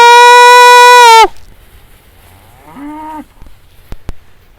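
Beef cows in a herd moo loudly and close by, one long sustained call followed after a pause by a shorter, quieter moo, with faint rustling and a couple of sharp clicks.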